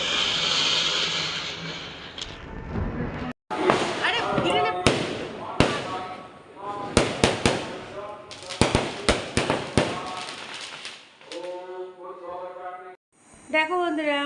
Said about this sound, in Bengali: ছাদে সবাই মিলে একসঙ্গে বাজি পোড়ানো চলছে